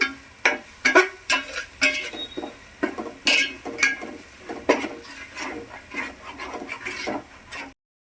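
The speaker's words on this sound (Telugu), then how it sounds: "ఇప్పుడు దీన్ని కూడా చక్కగా పచ్చి వాసన పోయేంత వరకు చక్కగా వేయించుకుందాము ఇలాగా" Ground masala paste for an eggplant and potato gravy being fried in a pan, with repeated clinks and scrapes of a spoon against the metal and a soft sizzle underneath, ending abruptly.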